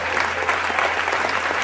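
A crowd applauds, with dense, even clapping from many hands filling the space at a steady level, and no voices standing out.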